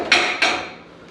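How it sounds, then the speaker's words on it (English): A metal cornbread pan clanks twice, a quarter-second apart, with sharp, close metallic knocks that ring briefly and then fade. "So let me grab the pan and I'll show you."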